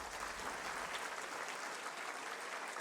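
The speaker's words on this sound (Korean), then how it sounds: "큰 박수를 부탁드리겠습니다" Applause from the audience at a Korean Science and ICT Day ceremony, a dense, even wash of many hands clapping, heard faint and distant without a break.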